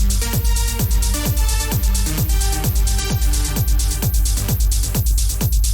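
A driving techno full loop: relentless booming kick on every beat, bright hats and percussion, and repeating synth riffs, loud and unbroken throughout with no voices.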